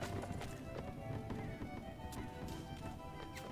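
Cavalry horses gallop in a strategy game, a dense continuous clatter of hooves under a busy battle din, fairly faint and with no clear voice on top.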